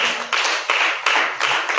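A church congregation bursts into applause in acclamation of the Holy Spirit, with loud, close clapping that swells in several quick surges and carries no talk.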